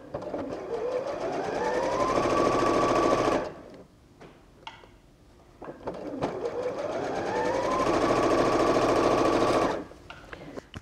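A sewing machine running an ordinary straight stitch while piecing a quilt block: two sustained bursts of fast, rattling needle action with the motor whine rising as it speeds up, separated by a short pause with small handling noises.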